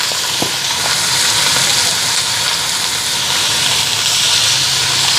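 Potatoes hit a frying pan of hot oil, setting off a loud, continuous sizzling hiss with a couple of faint knocks near the start and no speech.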